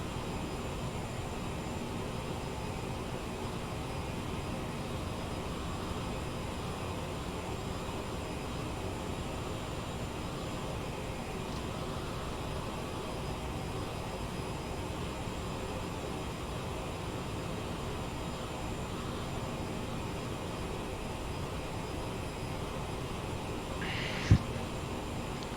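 CRJ-700 jet engines hum in a flight simulator during descent with the throttle pulled back; a steady, broad rushing drone fills the cabin, with one brief click near the end.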